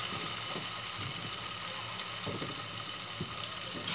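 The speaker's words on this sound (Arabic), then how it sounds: "شويه ماء توا" Water pours briefly into a cooking pot holding garlic, tomatoes and mallow for a Tunisian stew, a soft steady trickle with faint splashes heard close up, with no talk over it.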